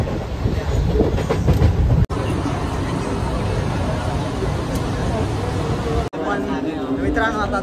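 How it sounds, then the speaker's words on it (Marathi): Inside a moving Mumbai suburban local train, the carriage rumbles loudly and continuously with wheel clatter and occasional squeal, while crowd chatter murmurs throughout. "मित्रांनो आता ट्रेन सुटले."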